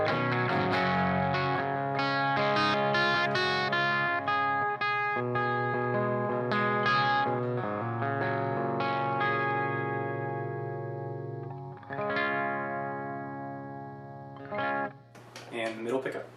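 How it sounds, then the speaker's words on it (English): A Gibson ES-137 electric guitar on a clean tone with the bridge pickup plays a sequence of plucked notes and chords, ringing out clearly with light effects and a trailing sustain, with no voices. "here's a clean sound, starting with the bridge pickup."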